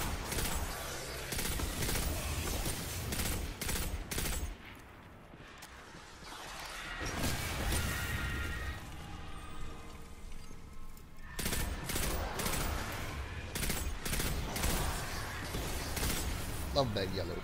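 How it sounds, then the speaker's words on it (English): Pulse rifles fire in the video game Destiny 2, with continuous dense bursts of gunfire, a brief lull near the middle, then more sustained shooting mixed with game effects. "These pulse rifles, they're the best."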